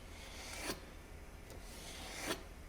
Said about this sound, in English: After we have taken the tempeh out of its packaging, I'm going to cut it as follows.